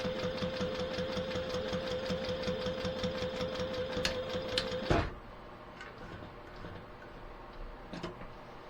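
A sewing machine runs steadily stitching sailboat dodger fabric for a side panel, a close, even mechanical whir that stops abruptly midway, leaving faint handling noises.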